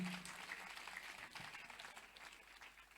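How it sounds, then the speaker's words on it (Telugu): Audience at a Christmas gathering clapping steadily, a soft, continuous applause from a crowd throughout, fairly distant and faint. "ఒక్కసారి గట్టిగా చప్పట్లు కొడుతూ నేను కనపరచాలి"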